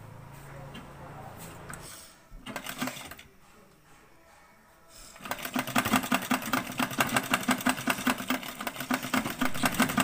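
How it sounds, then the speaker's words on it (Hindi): An electric sewing machine stitching white cloth over a cut neck design. Someone talks at first, then after a short pause the machine starts a fast, loud, steady rhythmic chatter of close-up stitching. "बस अब मैं इसके ऊपर सफ़ेद कपड़ा फैला के इसको स्टिचिंग करूँगी"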